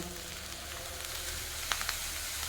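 Chow mein noodles fry with soy sauce in a home kitchen pan, giving a steady, close sizzle with a few faint ticks and stirring scrapes.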